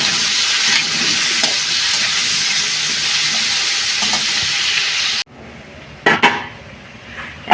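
Squash with a little turmeric fries in a pan, giving a loud, continuous sizzle for about five seconds that cuts off abruptly, followed by a few sharp clinks of a utensil against the pan.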